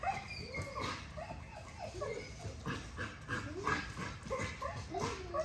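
A young dog climbing on a cage, giving repeated whimpers, yips and short barks, fairly close and moderately loud, with a person speaking quietly now and then.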